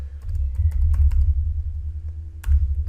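Someone types a Git commit message on a computer keyboard, making a close, steady patter of key clicks with a few louder taps and short pauses, with no voices.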